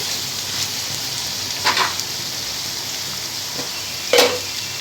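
Onions frying in a pan for a chana dal onion curry give a steady sizzling hiss, broken by a few brief spoon scrapes and stirs, with no talk over it.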